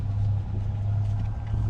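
Steady low engine rumble of cars passing on a nearby road, a continuous medium-loud drone with no talk.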